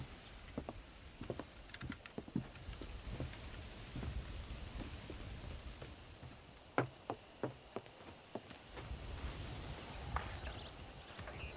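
Horse hooves clip-clop on a ranch in Red Dead Redemption during horse breaking, a quiet irregular patter of sharp knocks with a few louder hoofbeats, all under a low background hiss.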